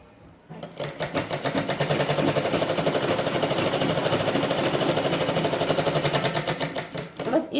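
Sewing machine stitching a patti strip onto a blouse, running steadily and loudly up close for about seven seconds after a short quiet start, with a rapid even mechanical rattle.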